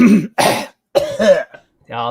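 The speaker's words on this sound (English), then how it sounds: "I'm still dealing with a cough from 3 weeks ago." A person gives a few short, harsh coughs and throat-clearing bursts close to the microphone, broken by brief pauses, with a voiced sound at the end.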